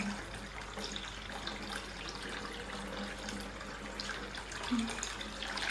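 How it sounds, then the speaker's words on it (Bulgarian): Water gushes strongly and steadily from a tap, a close continuous rushing hiss that runs for several seconds while faint voices murmur in the background. "О, тече на голема вода."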